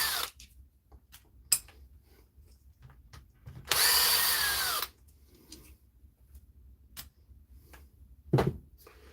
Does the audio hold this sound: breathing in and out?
no